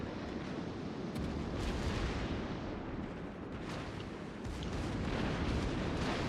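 Heavy naval gunfire and ship explosions in a naval warship battle video game, with the Des Moines firing, forming a dense, continuous rumbling barrage with repeated booms layered throughout.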